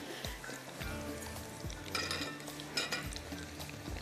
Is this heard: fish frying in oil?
yes